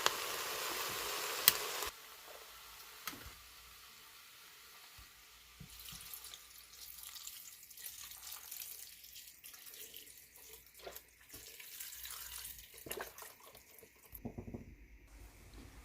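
Chicken stock poured into an Instant Pot, a faint liquid splash and trickle at first, then quieter intermittent splashes and clinks.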